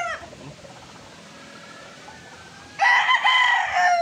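A Bruce Barnett sweater gamefowl rooster, street-bred, crows loudly and close in a single burst near the end, after a stretch of quieter background and faint clucking.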